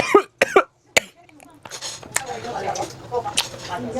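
A few sharp coughs up front at a tteokbokki restaurant in Mapo, then quieter talking and clinking over a low background.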